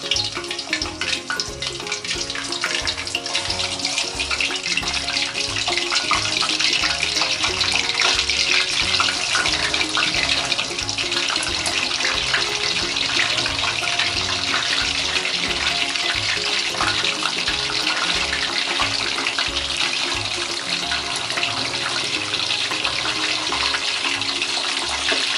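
Chicken pieces deep-frying in moderately hot oil, a dense, steady sizzle and crackle that stays loud and close the whole time with no voices.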